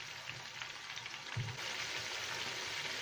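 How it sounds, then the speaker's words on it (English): Steady, close sizzling of pork frying in a pan for sweet and sour pork, a constant crackling hiss with no voices. "Now I'm going to fry them until they're nice and crisp."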